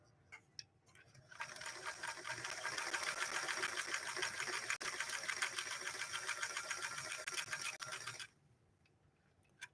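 A Singer 328K sewing machine stitches through two layers of Italian leather, running in one continuous, fairly quiet whirring burst of about seven seconds with faint clicks before and after.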